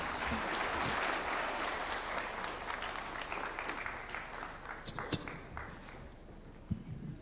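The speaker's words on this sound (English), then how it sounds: "Another round of applause to His Excellency." Audience at an international nuclear energy conference in Nairobi applauds with a moderate, even patter of clapping that slowly thins out, a few sharper claps standing out near the end, heard from a distance at low level.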